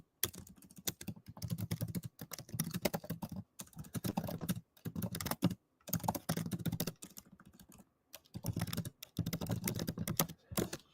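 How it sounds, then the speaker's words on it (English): Rapid, continuous typing on a computer keyboard, close and crisp, running in bursts with short pauses between them and no voices. "So I was in the midst of typing the response to Bruce."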